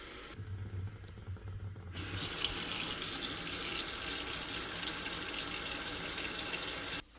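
Water from a running tap splashes steadily as cross stitch fabric is rinsed beneath it, starting quieter and then pouring more fully for several seconds before cutting off.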